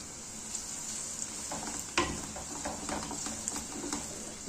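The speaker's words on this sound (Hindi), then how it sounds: "अब इसको भी हमने अच्छी तरह से भूनना है।" Crushed garlic and ginger fry with onions in a pan for mutton paya, giving a continuous sizzle broken by scraping stirs and a few sharper clicks from the spoon.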